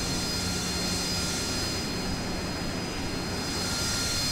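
In the Falcon BMS flight simulator, a jet aircraft's engine roars on a carrier deck before takeoff, a steady, dense turbine rush with a faint high whine running unbroken throughout.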